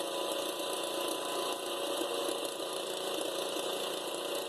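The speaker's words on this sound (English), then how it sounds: "I'm running it in 4th gear. High gear with that garden tractor. Pretty much full throttle." Wheel Horse garden tractor running in fourth, its high gear, at nearly full throttle, giving a steady, loud, continuous mechanical engine drone with rattling, no talking.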